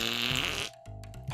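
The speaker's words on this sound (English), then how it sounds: "We're not the only ones who fart." A short, loud comic fart with a buzzing, rippling tone, broken by a brief gap and then a second, sputtering burst, heard alone with no talk.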